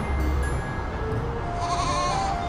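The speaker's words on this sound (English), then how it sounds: "look at the baby goats and ponies" Baby goats at a petting farm give a few short, faint bleats against steady outdoor background noise, with no voices.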